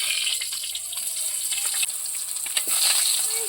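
Eggplant pieces sizzle in hot oil on a flat pan, a steady bright hissing crackle that runs continuously and close without pause.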